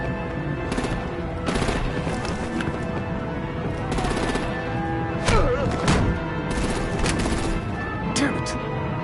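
Artillery and rapid gunfire in a Batman video game, with sharp bursts and machine-gun rattles cracking out at irregular moments over a busy battle din, while voices speak between the shots.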